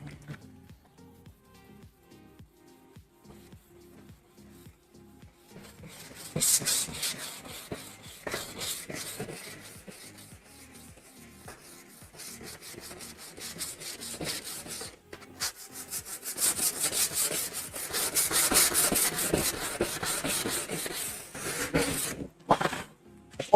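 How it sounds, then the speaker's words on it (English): Repeated scratchy rubbing strokes of sandpaper on wood, quiet at first, then louder and faster back-and-forth sanding for the rest of the stretch. "let's get to sanding."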